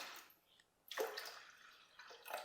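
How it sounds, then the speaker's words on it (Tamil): Water is poured into a pot of greens for a South Indian keerai kadaiyal. It comes as faint, brief splashing bursts, with a louder pour near the middle and another at the end. "ஒரு 2 கப் அளவுக்கு தண்ணி சேர்த்துடலாம்."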